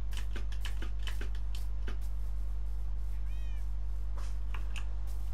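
A cat meows once, thin and mid-distance, inside the Minecraft video game, heard over a loud constant low hum with a scatter of sharp clicks and taps before and after it.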